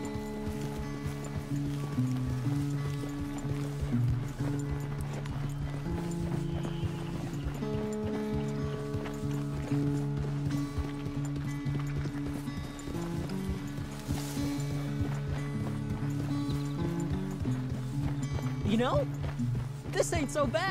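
Clip-clop of a horse's hooves galloping at speed in Red Dead Redemption 2, a steady rapid rhythm under a thick layer of music and game sound, with a voice talking over it.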